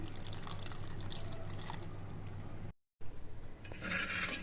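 Water pours and trickles into a mixer jar of coconut, fairly quiet, broken by a short pause before the flow resumes and splashes.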